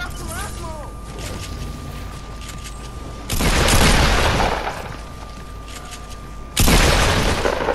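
Pump shotgun blasts in the Fortnite video game: two loud, broad booming shots several seconds apart, each with a sustained noisy tail, over quieter game sounds with a steady tone in between.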